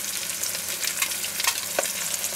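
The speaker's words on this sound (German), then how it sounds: "da werden die Spiegeleier rausgebrutzelt" Fried eggs sizzling and crackling in a frying pan, a steady close hiss with occasional stirring or scraping pops, no voices.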